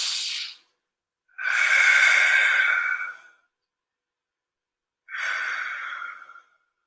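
Three long, hissing breaths of Ujjayi breathing in a vinyasa yoga flow, drawn slowly through a constricted throat, close and fairly loud, separated by silent pauses.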